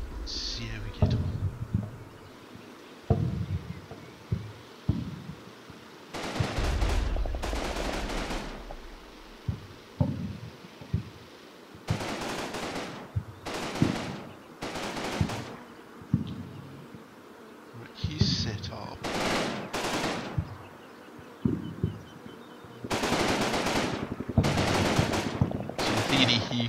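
Machine gun suppressive fire in the Combat Mission: Battle for Normandy video game, with repeated loud, sustained bursts of rapid gunfire separated by short pauses and quieter stretches of battle ambience.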